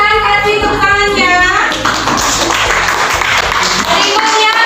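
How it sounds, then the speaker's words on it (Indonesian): A class claps after a group's traditional dance presentation, a burst of hand clapping and light tapping following a stretch of voices and music at the start, with chatter continuing underneath. "silakan kasih tepuk tangannya"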